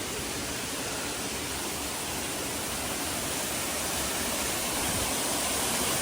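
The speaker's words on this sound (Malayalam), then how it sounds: "വെള്ളം ഇങ്ങനെ ഒഴുകി വന്ന് ഇങ്ങനെ താഴോട്ട് പോവാ" A waterfall at Rock Garden, Darjeeling, roars in a constant, full wash of rushing water, loud and unbroken from start to finish.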